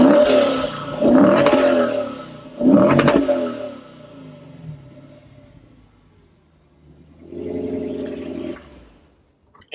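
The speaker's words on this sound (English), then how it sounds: "we'll show you exactly what the exhaust does sound like on this particular vehicle" A 2016 Lexus GSF exhaust sounds close after engine start, with three sharp rising revs in quick succession, a quieter idle settling in between, then a later lower sustained rumble that fades out.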